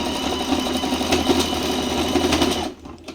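A tabletop sewing machine runs a stitch, with a steady close whirring motor and needle chatter that goes on for about two and a half seconds and then stops.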